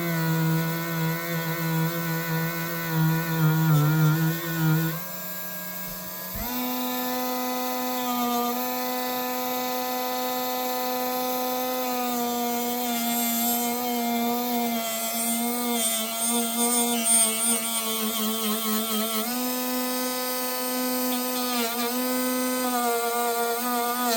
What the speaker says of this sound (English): I'm using the thinnest cloth that I have, cloth wheel, to work on it